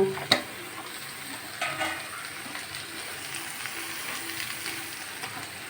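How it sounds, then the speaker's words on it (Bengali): Thinly sliced potato and pointed gourd frying with onion in a pan, a soft steady sizzle opening with a sharp metallic clink, then occasional gentle stirring scrapes. "আলু পটল সবই একসঙ্গে পেঁয়াজের সঙ্গে দিয়ে কষিয়ে নেব"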